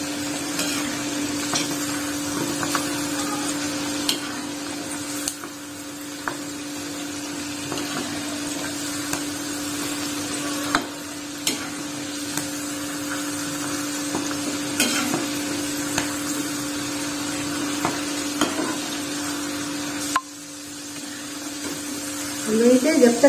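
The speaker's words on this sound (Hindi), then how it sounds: "इसी तरह से हिलाते हुए इसको दाल को चल तल लेना है" Chana dal frying in hot oil while being stirred for crunchy namkeen, a continuous close sizzle with scraping stir strokes and a steady low hum underneath, with occasional speech.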